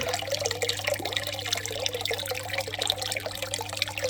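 Water gushes steadily from an electric aquarium gravel cleaner lifted out of the tank, a continuous close splashing flow with a constant motor hum beneath it, no voices.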